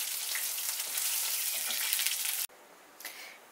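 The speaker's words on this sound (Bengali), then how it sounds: "মাছগুলো ডিপ ফ্রাই করা হয়ে গেছে, এখন আমি এটাকে তেল থেকে তুলে নিচ্ছি।" Fish sizzles loudly as it deep-fries in hot oil, a dense steady crackle that suddenly drops to a quieter hiss near the end, close and with no talking.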